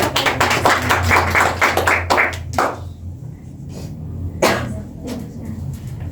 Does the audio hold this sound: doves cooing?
no